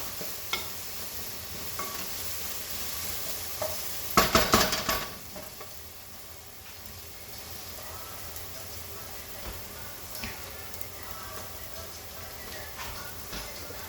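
Onion sizzling in a pan for a veggie pasta sauce, a steady frying hiss with a short burst of stirring and utensil scraping partway through.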